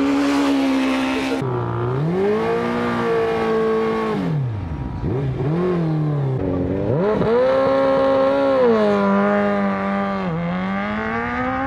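Rally sprint car engine at an AMK Letohrad sprint event, revving hard through repeated rising and falling pitch sweeps, loud and close and continuous, with tire noise and no talk.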